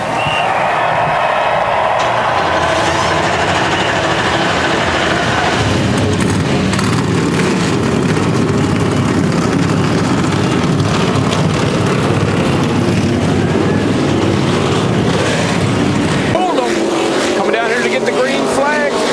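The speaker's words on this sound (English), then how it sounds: "Drivers, start your engines." NASCAR stock car engines fire up for the Kobalt 400 at Las Vegas Motor Speedway, a loud, sustained broadband roar that deepens into a heavy low rumble midway through, with voices heard over the engines.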